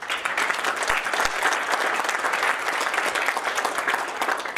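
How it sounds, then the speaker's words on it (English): Audience applause at a TEDx event at Lawrence Public Library: dense, sustained clapping from a large crowd, steady and fairly loud throughout with no speech over it. "Another round of applause."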